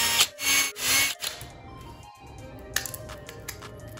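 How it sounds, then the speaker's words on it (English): Screwdriver turning out the Phillips screws that hold the board of a Bird 3 electric scooter, with a few loud scraping, rubbing bursts at first, then quieter close clicks and ticks. "What I'm going to do is remove this board by unscrewing these 4 Phillips screws."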